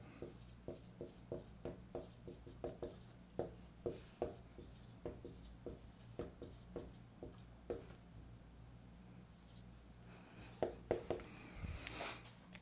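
Pen or marker writing out a physics calculation, heard as faint, evenly spaced taps and short strokes over a low steady hum, close and quiet, with no voice.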